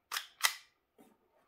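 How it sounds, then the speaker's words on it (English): Two sharp, close plastic clicks come in quick succession as the dust cover snaps shut on a Vz61 Scorpion airsoft gun fitted with an HPA kit, followed by a faint softer rattle. "Close the dust cover."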